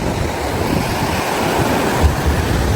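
Sea waves roll onto the beach at Bagasbas during high tide, a steady broad wash of surf with wind buffeting the microphone throughout, no voices over it.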